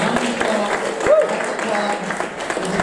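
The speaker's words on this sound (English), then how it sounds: "a round of applause" Scattered applause from a comedy club audience, moderate and steady, with a voice talking over it.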